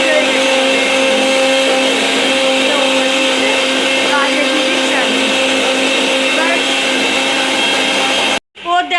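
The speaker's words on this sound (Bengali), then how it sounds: "ছাড়ো মিক্সিটা আমি করে দিচ্ছি। তো মিক্সিটা করে দিচ্ছে।" A home mixer grinder runs loudly as it grinds garlic and onion, its steady high whirring drone lasting about eight seconds before cutting off abruptly.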